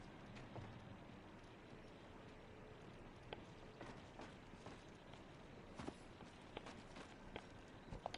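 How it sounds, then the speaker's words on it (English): Quiet, rapid footsteps patter under steady background noise in the battle royale shooter Apex Legends, an enemy player moving nearby, with faint creaks and mechanical ticks mixed in. "Don't you hear those footsteps?"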